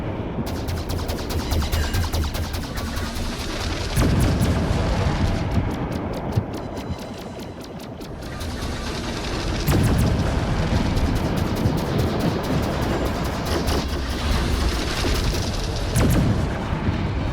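HE bombs burst against a ship in World of Warships, a dense roar of explosions and rapid gunfire rumbling loud and continuous, with heavier booming surges partway through and near the end.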